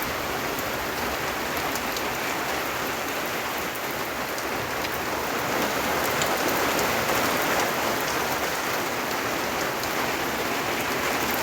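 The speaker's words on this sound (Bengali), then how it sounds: "যে বৃষ্টি শুরু হয়ে গেছে" Heavy rain pours down during a storm in a dense, unbroken hiss, drumming on surfaces with no voices, steady throughout.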